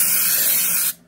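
Aerosol rust-proofing spray hisses steadily and loudly onto the metal discharge chute of a snowblower, one continuous close burst lasting about a second before cutting off abruptly.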